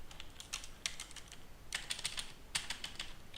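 Typing on a computer keyboard while entering plugin commands, quick bursts of close key clicks with short pauses between them, crisp and fairly faint against a quiet room.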